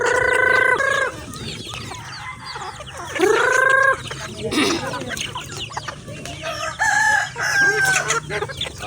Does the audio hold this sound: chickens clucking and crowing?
yes